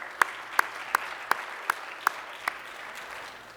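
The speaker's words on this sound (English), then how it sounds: "let's give National League of Cities a big round of applause" Seven slow, evenly spaced single claps ring out sharply in a quiet room at a thank-you reception, then stop, leaving faint background hum.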